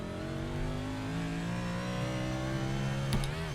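A race car engine in iRacing at Kentucky accelerates hard in a time trial, its steady harmonic drone climbing slowly in pitch, close and continuous, with a brief click near the end and no voices.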